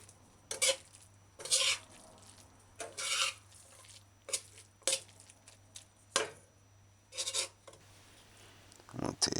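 A spoon scrapes and stirs a simmering soy mince sloppy joe in a pot, making repeated short scraping strokes in irregular bursts with quiet gaps between them, fairly close and with no talking.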